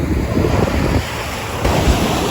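Surf of the Philippine Sea on a Zambales beach washes and rushes loudly nearby, mixed with gusty wind buffeting the microphone, with no voices in the moment.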